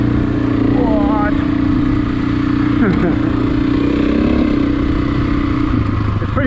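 An off-road motorcycle engine drones steadily on a dirt trail at Pinyon Mountain, a constant close rumble with small pitch shifts and a rider's voice talking over it.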